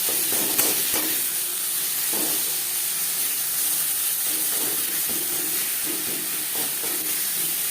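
Taro leaves and garlic fry in a pan on medium heat with a continuous loud sizzle and hiss, and faint scrapes of stirring come through now and then.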